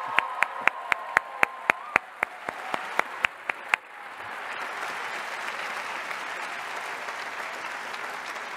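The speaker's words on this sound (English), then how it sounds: "Let's have a round of roaring applause for all the great people in our community." Graduation-ceremony applause for a valedictorian's speech. About a dozen sharp, evenly spaced claps open it, then the crowd joins in a broad, sustained burst that stays strong to the end.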